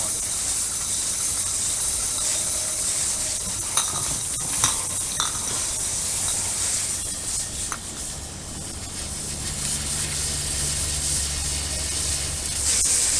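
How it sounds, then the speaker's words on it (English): Rinse water sprayed over cider bottles laid down together, a continuous close hissing wash with light clinks of glass scattered through it. "Let's lay them all down and spray them all at once"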